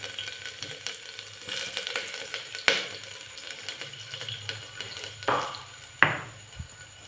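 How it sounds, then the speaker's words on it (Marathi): Ginger and garlic sizzle in hot oil in a pan with a soft, steady frying hiss, broken by a few sharp clicks and clinks, close and quiet. "आता इथं तेल तापलेलं आहे, तेल तापले। आता ह्याच्यात टाकूया आपण आलं लसूण टाकूया,"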